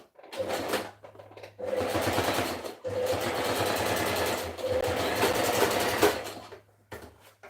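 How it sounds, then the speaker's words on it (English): A sewing machine stitching a dress, whirring close and clear in several bursts of rapid stitching separated by short pauses. "I'm going to start stitching from here, from the down part."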